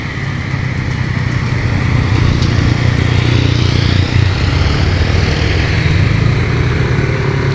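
A Suzuki Carry vehicle passes on a road at a bend, its engine a steady moderate drone with broadband road noise throughout, no voices.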